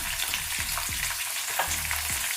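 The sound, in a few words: green chillies and dried red chillies frying in a pan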